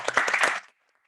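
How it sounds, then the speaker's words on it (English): Brief burst of clapping from a small group at a club meeting, loud for about half a second and then stopping abruptly into near silence. "applause to both of you"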